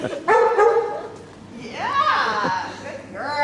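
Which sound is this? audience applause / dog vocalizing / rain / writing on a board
dog vocalizing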